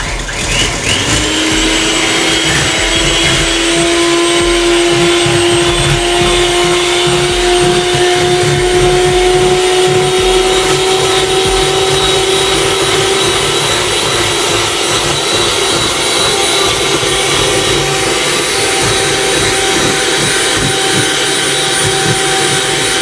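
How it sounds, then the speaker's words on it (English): An electric mixer running on high whisks egg whites with sugar, giving a loud, steady whirring whine that rises in pitch and holds for a long stretch, with no talking over it. "we're going to whisk it on high"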